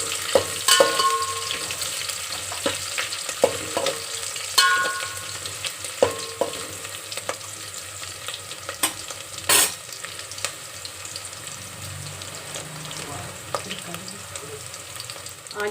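Sliced onions and green chillies frying in a pan as they are stirred toward brown, a continuous close sizzle broken by frequent sharp scrapes and clinks of the spoon against the pan.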